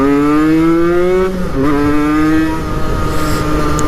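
A Peugeot NK7 motorcycle engine revs up, loud and close, in a steady rising drone that dips briefly mid-clip and then climbs again.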